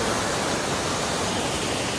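Stream water rushes with increased force among green countryside, a dense, steady roar that is close and continuous with no voices.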